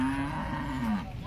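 A cow moos at a busy cattle market in Maharashtra, a single drawn-out low call that rises and falls over about a second, close and loud above a murmur of crowd noise.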